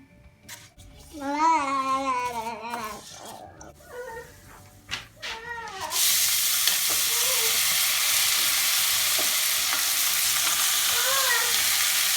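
Butter hitting hot oil in a pot for pilaf bursts into a loud, steady sizzle that starts halfway through and holds to the end, after a stretch of voices and a child babbling.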